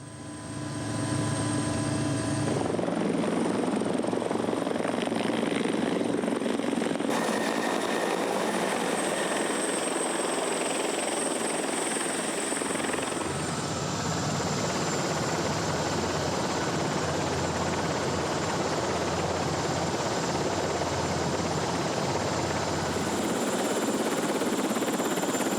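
Helicopter rotor and turbine drone steadily and loudly, close by, as it sets down on the platform of the Geo Challenger vessel at sea, with a continuous whine and shifting wash throughout.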